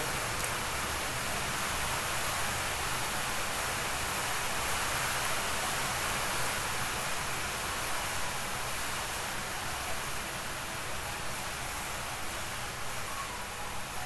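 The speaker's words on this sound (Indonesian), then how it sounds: "tunggu reda hujannya" Constant soft rainfall, an even hiss that stays level throughout, moderately quiet and with no talking over it.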